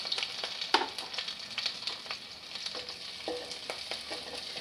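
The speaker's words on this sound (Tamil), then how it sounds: "கொஞ்சம் நல்லா எண்ணெயில் வணக்கி விடலாம்." Ajwain, curry leaves and chilies frying in hot oil, a steady close crackling sizzle with light, irregular stirring clicks throughout and no talking.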